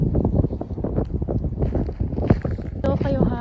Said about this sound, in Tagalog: Mahangin talaga eh.